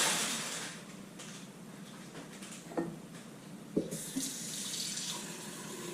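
A kitchen tap runs steadily, filling water for flowers, a constant rushing splash with a few brief knocks and clinks partway through, no voices.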